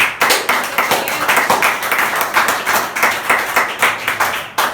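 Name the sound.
congregation applause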